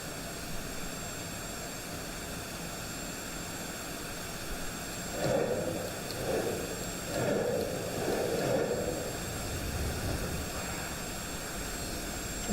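An L-39 jet drones steadily through flight, a constant rushing roar with a faint high whine on top, swelling with a few rumbling bursts midway before settling back to an even hum.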